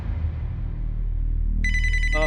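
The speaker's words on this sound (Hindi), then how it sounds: "एक फोन आ रहा है, थोड़ा काम पटा के आता हूँ।" A phone ringtone starts partway through, a bright electronic melody ringing out over a low steady hum, with no talking.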